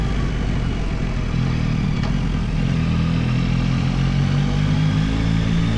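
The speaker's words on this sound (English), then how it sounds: "the engine echoing against the hills" A motorcycle engine drones steadily on the coastal road between Shëngjin and Velipojë in Albania, a close, continuous low rumble with no speech over it.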